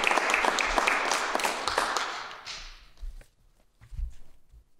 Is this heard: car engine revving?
no